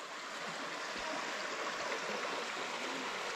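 A brook flows along the Virginia Creeper Trail at Green Cove Station, curving down through a hollow, giving a steady, close rushing of water with no voices over it.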